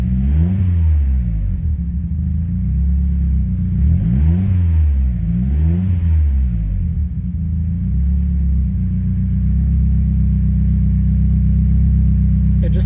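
A car engine, running rich after sitting unused for over a week and fitted with an AEM air-fuel ratio gauge, revs up and down in several swelling cycles close by, then settles into a steady, loud, rumbling idle.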